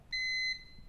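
A digital multimeter gives one brief, steady electronic beep, about half a second long and clear against a quiet background, as its probes test a 470 µF, 25 V capacitor on a circuit board.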